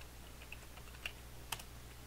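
Faint keystrokes on a computer keyboard enter a folder name on a Windows PC, a few sparse, soft clicks over a constant background hum.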